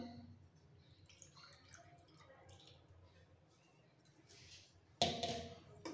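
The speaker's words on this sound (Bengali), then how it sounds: "আর দিয়ে দিচ্ছি সামান্য জল।" A little water poured onto paneer and cashews in a kitchen, heard as faint, quiet trickles and drips, followed by a sudden louder clatter right at the end.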